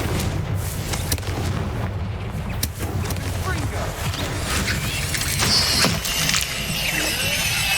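A Bombarda blast spell goes off in Hogwarts Legacy: dense, booming explosive rumble with sharp bursts layered over continuous battle noise, loud and close, with a voice speaking over it.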